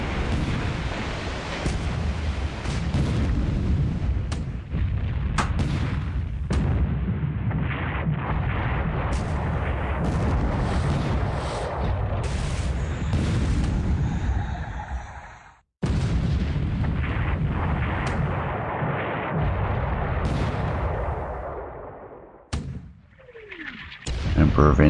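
Naval warships trade gunfire in a World of Warships-style battle game, with a continuous dense roar of booming cannon shots and explosions, frequent sharp blasts and a brief lull, while a voice talks over it.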